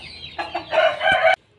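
A hen clucks in a series of loud, close calls, rising into a sustained burst of squawking clucks before stopping abruptly.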